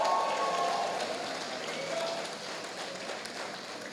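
A church congregation applauds the Lord in a dense, steady patter of many hands clapping, fairly loud at first and easing slightly, with faint voices beneath.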